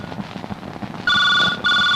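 A telephone rings loudly in two electronic bursts with a short gap between them, cutting in over a quieter stretch of room noise and faint background sound.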